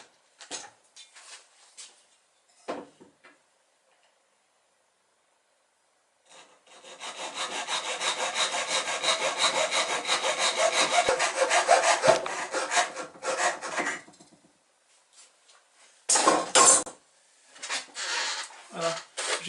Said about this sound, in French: Je vais maintenant couper